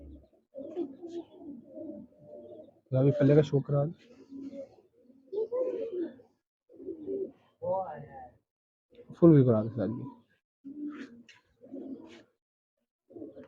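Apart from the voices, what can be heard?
golden pigeons cooing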